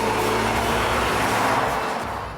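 A Jaguar XKR-S convertible with a 300-horsepower 5.3-litre V12 drives along with a loud, steady engine drone that swells briefly and then fades slightly, with no talk.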